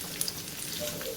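Faint crackling sizzle of fresh turmeric sautéing over a high flame in a pan, a steady soft hiss with a few small pops near the start.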